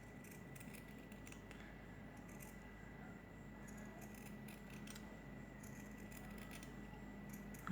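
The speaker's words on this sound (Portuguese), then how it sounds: "E vou cortar a minha parte redondinha de acabamento também." Scissors cutting a round fabric finishing piece for a sewing project, with a faint, steady snipping and rustling close by against a quiet background hum.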